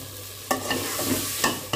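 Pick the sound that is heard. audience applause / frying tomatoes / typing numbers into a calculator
frying tomatoes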